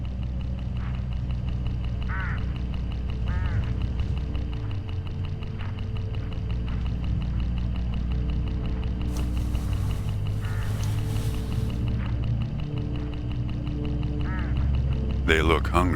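Hooded crows along a road in a video game give a few short, harsh calls spaced several seconds apart, faint under a continuous background and voices.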